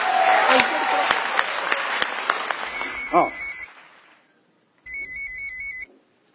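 Applause from an audience, a dense burst of clapping that runs for about three seconds and then fades, followed by an electronic phone ringtone chirping in two separate bursts.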